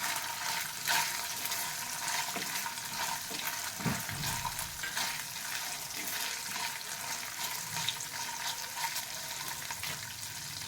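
Ginger sautéing in hot oil in a pan, a soft steady sizzle with occasional low scraping and stirring sounds, quiet and close, with no voices.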